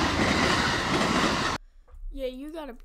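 A passing freight train rumbles loudly for the first half as a dense, rolling rail noise, then cuts off abruptly to quiet, followed by a tonal, voice-like sound.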